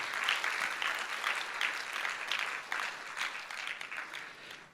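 An audience at a Mother Easwaramma Day program claps steadily for several seconds, a soft, fairly distant patter of many hands with gentle swells.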